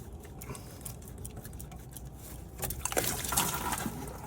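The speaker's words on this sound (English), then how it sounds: "You're gonna have some fluid falling down." Coolant fluid pouring out of a disconnected hose on a 2019 Dodge Journey during a thermostat replacement, a soft trickle that swells into a louder splashing flow midway through.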